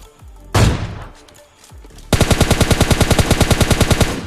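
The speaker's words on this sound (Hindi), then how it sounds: "सामने की तरफ से कुछ बॉट्स के फायर आ रहे थे मेरे को" Bot gunfire in PUBG Mobile Lite: a single loud shot with a decaying tail, then a rapid, evenly spaced automatic burst of roughly twenty close rounds, with no talking.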